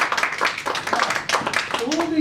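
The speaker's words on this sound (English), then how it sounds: "Can you please give them a nice round of applause?" Children giving a round of applause during a WaterAid school talk, a brisk patter of claps mixed with chatter and voices throughout.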